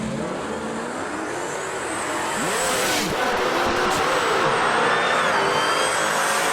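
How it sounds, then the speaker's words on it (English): Drag race cars, including a blue Hellcat in the right lane, accelerate hard down the strip at Milan Dragway, a loud sustained engine roar that builds steadily with rising pitch sweeps and no talk over it. "We got a drag race marching to the top end."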